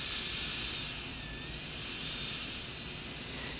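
A portable lithium-ion battery micromotor handpiece spins at 30,000 RPM, giving a steady high-pitched whine with faint wavering overtones. It sounds close and continuous, with no talking.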